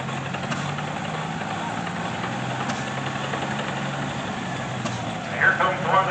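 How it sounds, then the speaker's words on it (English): A 1960 Oliver 990 tractor with a GM Detroit diesel engine running steadily at a parade, giving a continuous low droning rumble with faint background voices. "Here comes one of the noisiest tractors on the ground. An Oliver 990 with the GM diesel, Detroit diesel to be precise, 1960."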